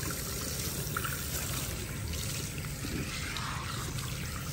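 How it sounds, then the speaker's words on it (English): Lukewarm water runs steadily from a salon sprayer as hair is wetted before shampooing, a constant close hiss and trickle with no talk. "Wet the hair good."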